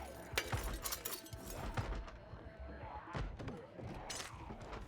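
Glass being pried out of a window frame in Project Zomboid, with several sharp clinks and cracking shatters at irregular intervals, close and moderately loud, mixed with soft thuds and background game ambience.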